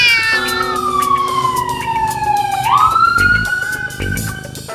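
Cat meowing in long drawn-out wails that slide down and then back up, with a police car siren sweeping alongside it, loud and continuous with some scattered clatter near the end.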